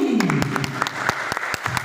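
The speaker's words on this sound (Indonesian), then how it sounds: "Ya, tepuk tangan sekali lagi." Audience at a women's Islamic quiz competition clapping in scattered, uneven claps, with a voice talking faintly underneath at the start.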